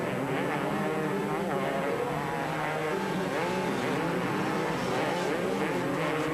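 250cc motocross bikes race on a rough, rutted 1999 Talavera de la Reina circuit, several engines blaring continuously close by with a dense, revving whine that rises and falls as riders work the throttle.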